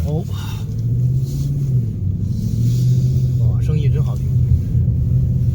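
A Ford Mustang Dark Horse being driven and drifted gives a steady, loud low engine drone from inside the cabin, with voices heard over it.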